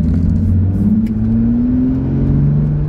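A Jeep engine fitted with a new aftermarket intake accelerates mildly, heard from inside as a loud, steady droning rumble whose pitch rises gradually over about three seconds, with no talking over it.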